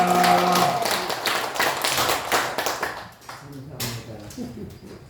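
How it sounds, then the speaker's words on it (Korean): A church congregation breaks into applause, a burst of many hands clapping close by that thins out, with voices heard alongside. "우리 한 박수로 하나님께 영광 돌립니다."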